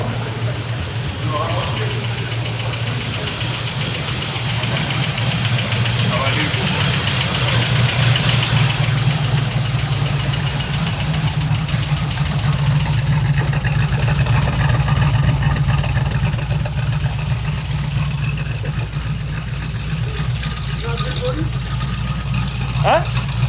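An old 1940s vehicle engine idles steadily close by with a low, even throb, while people talk over it throughout.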